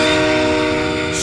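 The Scream Train from the video game The Typing of the Dead: Overkill roars past, a loud sustained rumble with a blaring horn-like wail, steady and close throughout.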